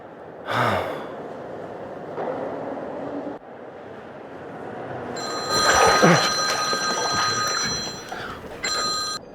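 A telephone bell rings in a French-language animated series set in an art museum, with short bursts of ringing after breathy gasps and sighs from a character, fairly close and clear.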